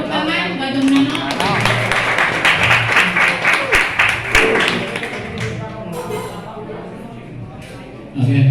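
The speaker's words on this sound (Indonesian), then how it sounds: "Tepuk tangan buat Om Nano." Audience applause for a speaker at a wedding photography workshop, a dense patter of many hands clapping that fades toward the end, with voices talking over it and a sudden louder sound at the very end.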